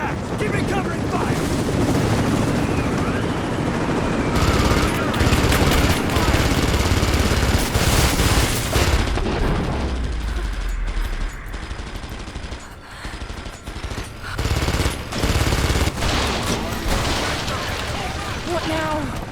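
Sustained automatic gunfire and explosive booms in a firefight from the video game Rise of the Tomb Raider, loud and dense throughout, with shouted voices over the shooting and brief lulls between bursts.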